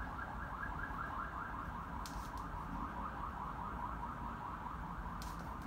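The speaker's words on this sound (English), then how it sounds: "you can actually hear some cars, police cars" A distant wailing police car siren cycles steadily through constant street noise, faint and continuous with no one speaking.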